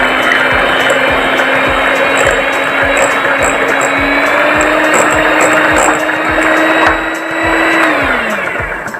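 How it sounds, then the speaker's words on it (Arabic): Electric hand mixer beating banana cake batter ingredients with sugar, a loud steady whir with a bright high whine held for several seconds, pitch sagging slightly near the end as it slows. "هنضرب طبعا المكونات بتاعتنا لحد لما السكر بتاعنا يدوب"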